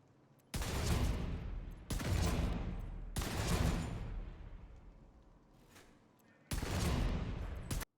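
Explosive pistol rounds fired in The Division 2 Gunslinger build, four heavy booming shots spaced about two seconds apart, each a loud blast with a long rumbling decay in a quiet shooting range.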